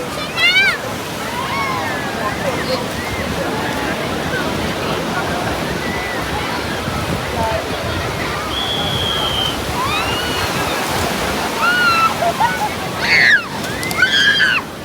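Gentle sea waves wash and roll in at Rushikonda Beach, a continuous close surf rush with small splashes, while a few bird-like chirps and faint voices float above it.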